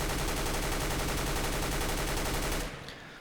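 An M4 rifle fired in a continuous full-auto spray in CS:GO, a dense rapid stream of shots that stops abruptly near the end, loud and steady with no voice over it.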